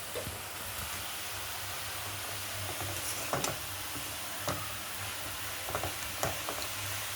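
A spoon scrapes and stirs a Bengali cabbage and green pea curry in a pan, with a steady low sizzle throughout and a few sharper clinks of utensil against metal, close by and with no talking.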